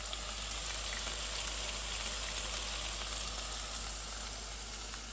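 Filet mignon sears in a hot pan with a steady, bright sizzle and faint spits and pops. The sizzle runs unbroken from start to end, with no voices over it.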